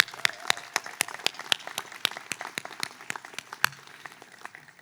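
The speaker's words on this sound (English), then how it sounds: "let's give the first round of applause of many today to the class of 2025" Applause for the Stanford class of 2025 at an International Relations diploma ceremony: a sparse round of distinct individual claps, fairly near, with a few louder hands standing out, tapering slightly toward the end.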